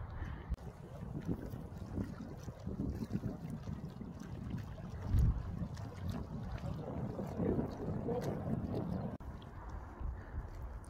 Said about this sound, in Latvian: kā es eju tuvāk, tad ir ļoti skaļš vējš